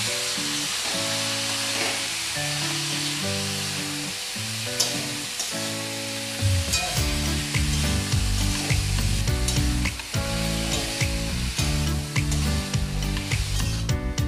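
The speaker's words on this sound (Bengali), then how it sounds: "এবার আমি কেটে ধুয়ে রাখা কুমড়োগুলো এর মধ্যে দিয়ে আবারও ভালো করে মশলার সাথে কষিয়ে নেব।" Ash gourd pieces are stir-fried in spice paste for a vegetarian ash gourd and potato ghonto, steady sizzling with repeated close scraping and clacking of a spatula against the pan.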